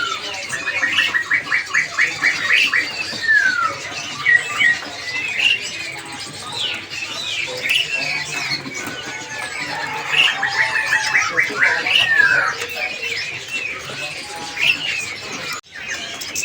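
Caged songbirds at a kiosk in Pramuka bird market chirp and whistle in busy overlapping calls throughout, fairly close, with no one talking.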